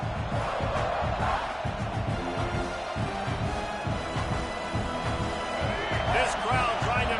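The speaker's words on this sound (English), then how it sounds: "This crowd trying to make life miserable for this offense." A roaring stadium crowd from the College Football 26 video game fills the whole stretch, dense and continuous, with a commentator's voice running over it.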